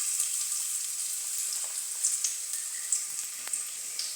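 Chopped garlic frying in a spoon or two of hot oil for a village-style mutton fry: a steady, bright hiss of sizzling with small crackles and pops scattered throughout, close by and without voices.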